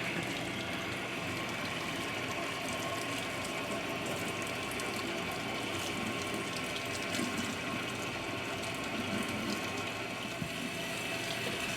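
Hot water runs steadily from a tap to rinse a bleached skull being cleaned for a European mount, a continuous close hiss of flowing water with faint mechanical clicking beneath and no talking.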